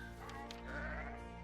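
A sheep bleats in the digital board game Caverna, a single drawn-out wavering bleat over a steady tonal game-music backdrop, clear and close for just over a second.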